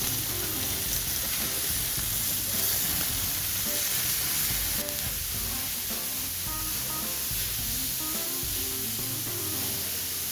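Beef keftas sizzle steadily on a grill for the whole stretch, a dense, constant frying crackle with faint clinks, no voices.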